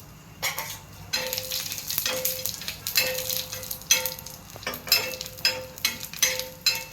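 Cumin seeds tossed into hot oil with dried red chilies and garam masala give a close, bright sizzle, broken by repeated stirring clinks and scrapes in the pan, with no voices.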